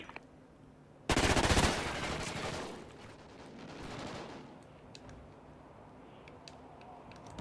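Rapid automatic gunfire in a Call of Duty Ghosts multiplayer match: a loud, close burst of machine-gun fire, then softer, scattered shots and battle noise trailing on.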